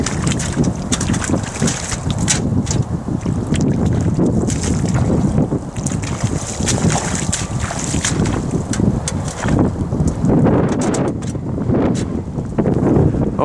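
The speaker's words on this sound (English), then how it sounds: "It's really annoying, all the wind." Steady, loud wind buffeting the microphone on a windy day outdoors while a willow tree is pollarded by hand from a step ladder, with rough gusty rumble throughout and no talk.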